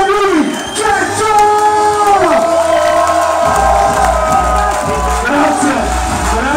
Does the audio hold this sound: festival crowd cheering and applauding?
yes